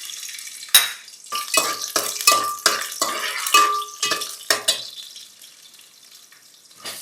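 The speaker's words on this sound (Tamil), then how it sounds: "இந்த பூண்டு, இந்த டைஸ் வெங்காயம், தக்காளியை நம்ம கொஞ்சம் வதக்க போகிறோம்." Garlic, diced onion and tomato being sautéed in a pan for a South Indian fish curry, with sharp sizzling bursts and repeated stirring scrapes that quiet down toward the end.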